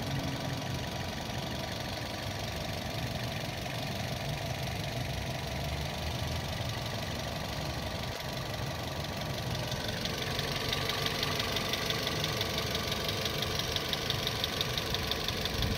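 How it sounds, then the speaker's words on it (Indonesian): A 2015 Toyota Yaris TRD S with automatic transmission idles steadily, a close, continuous engine rumble with a fine ticking rhythm that grows slightly louder and brighter in the last few seconds, with no talk. "Teman-teman bisa dengar sendiri untuk irama mesinnya masih standar."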